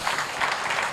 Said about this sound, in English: Please let's give them a hand clap